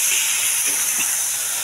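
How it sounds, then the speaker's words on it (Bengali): Spices sizzling while frying in a pan for a fish curry with lemon leaves, giving a steady, loud hiss throughout with no pauses. "মশলা কষাচ্ছি।"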